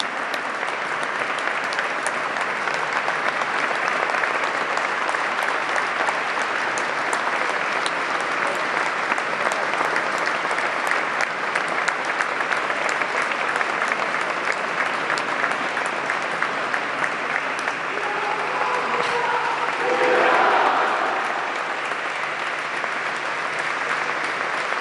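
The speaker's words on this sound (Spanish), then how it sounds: "Todo el Salón Azul aplaude a nuestros compañeros legislativos combatientes en Malvinas. Un aplauso de pie." A standing ovation fills the Salón Azul legislative hall, with dense, steady applause from a large crowd lasting the whole stretch, loud and continuous, with a faint swell of cheering near the end.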